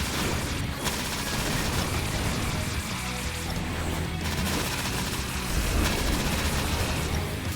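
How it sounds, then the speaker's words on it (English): Rapid-fire rockets shoot in a side-scrolling shmup, a dense, continuous barrage of blasts and booms layered with game music, loud and unbroken throughout. "Oh, rockets are nice and rapid fire."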